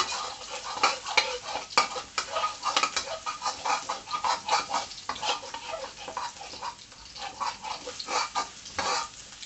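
Garlic frying in a pan for Thai rad na with marinated pork, sizzling crackle with busy stirring and scraping throughout, close and uneven in loudness, no voices.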